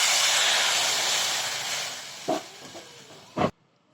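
Hot water hits a pan with a loud steamy hiss that fades, followed by two short splashes, then sudden silence.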